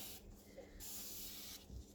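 Quiet bursts of fine mist from a spray mister onto freshly poured goat milk soap, a soft hiss that starts, stops briefly, then continues, close by with no voices.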